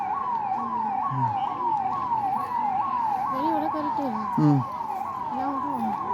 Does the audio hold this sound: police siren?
yes